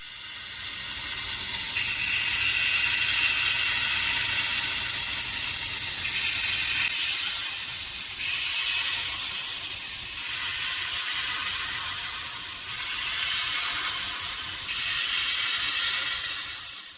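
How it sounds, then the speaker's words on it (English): Continuous close sizzling and hissing of hot water cornbread batter frying in hot oil, a bright crackling wash that shifts slightly in intensity over time, with no talking. "if you listen close, you'll hear it sizzle or fry as it hits that hot oil"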